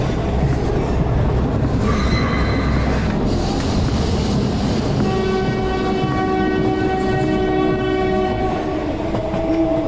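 A train running at night, rumbling steadily and loudly with clattering wheels, a horn sounding briefly early on, then a sustained squealing, whining wheel tone through the second half.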